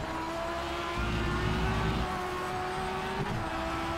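Race cars in a pack on a circuit in the video game Project Cars 3, a GT A career race in an Audi R8 LMS, with steady loud engine drone and rising tones as the cars run close together, no talk.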